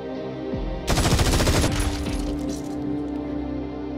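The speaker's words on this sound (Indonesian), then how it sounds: "ternyata itu adalah Abbott yang menembak dari arah belakang" Loud burst of automatic gunfire from an action film, a rapid rattling volley of shots that erupts suddenly and then trails into echoing debris and rumble, with no talking.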